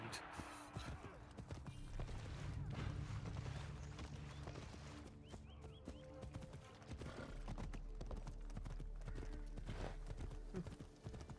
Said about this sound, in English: Which we can probably just ride to via horse.